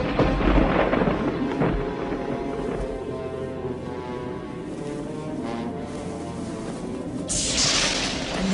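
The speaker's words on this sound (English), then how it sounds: "Storm's coming, Naomi." A continuous deep rumble of thunder from an approaching storm rolls on steadily, loud and broad, swelling slightly near the end with a hiss like rain or wind, and no voices.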